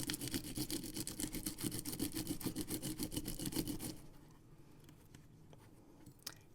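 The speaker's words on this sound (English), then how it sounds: "I'm going to grab our die brush and we're just going to press all those little pieces out" A die brush scrubs and presses small cut paper pieces out of a craft die, making close, rapid rhythmic bristly strokes for about four seconds, then a few faint scattered taps.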